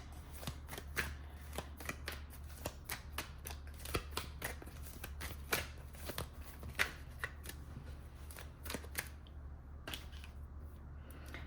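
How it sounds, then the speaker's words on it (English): Crisp, rapid riffling and snapping of a tarot card deck being shuffled, repeated bursts close up with a steady low hum underneath. "I'm gonna shuffle one more time just to see."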